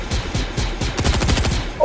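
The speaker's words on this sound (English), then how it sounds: "Who's shooting at me?" Rapid automatic gunfire in the Fortnite video game, dense overlapping bursts of shots filling the whole stretch, loud and continuous with no talking.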